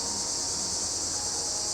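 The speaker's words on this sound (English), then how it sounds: "Hi, cicadas." Outdoor cicadas in early July drone steadily in a high, continuous buzzing wash, moderately faint, with no voices present.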